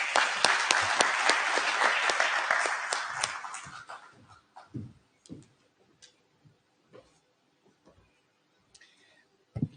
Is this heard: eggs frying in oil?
no